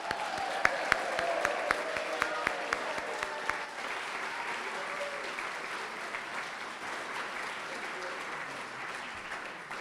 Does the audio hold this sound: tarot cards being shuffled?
no